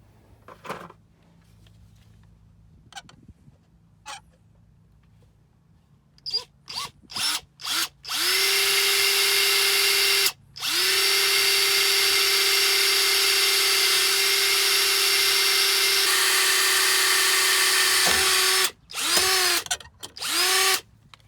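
A power drill with a 9/64 inch bit drilling holes in a Mazda MX-5 whirs in several short bursts, then runs steadily for long stretches, loud and close, with brief pauses between runs.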